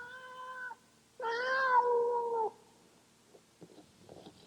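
A cat crying at a door: a short mewing call, a pause, then a longer drawn-out wail, heard close and clear in a quiet room, followed by faint small rustling.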